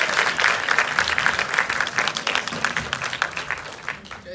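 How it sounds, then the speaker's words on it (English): An audience at a post-screening discussion applauds the filmmakers, a dense, steady wash of many hands clapping that holds for several seconds before thinning slightly toward the end. "a round of applause for our filmmakers"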